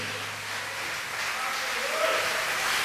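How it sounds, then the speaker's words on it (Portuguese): A church congregation at an evening evangelical service applauds, a soft, even patter of many hands that swells slightly as it goes on, heard from a distance. "Levante as suas duas mãos e aplauda o nome do nosso Deus nessa noite."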